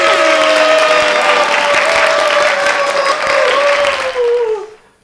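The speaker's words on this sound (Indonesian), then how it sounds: "Kita tepuk tangan." An audience applauds a speaker with loud, sustained clapping and a sustained tonal sound beneath it, then the applause quickly fades away at the end.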